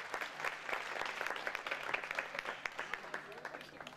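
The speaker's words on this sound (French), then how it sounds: "Je vous demande de l'applaudir s'il vous plaît, Nadia Jamal, la vice-présidente de l'association des Racines et des Êtres" Audience applause at a charity gala dinner show for a vice-president of the association Des Racines et Des Êtres, a steady dense patter of many hands clapping throughout, fairly faint and even.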